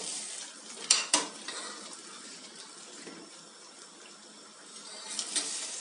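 Freshly fried lokma dough balls, drained of oil, drop into cooled sugar syrup in a home kitchen, making a couple of sharp splashes followed by soft, continuous wet sloshing and stirring sounds with no talk.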